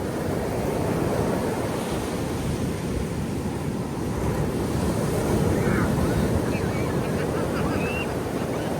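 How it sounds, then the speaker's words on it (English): Pacific Ocean surf at a beach, a steady loud wash of breaking waves mixed with wind rumble on the microphone, continuous throughout. "they said never you turn your back to the ocean."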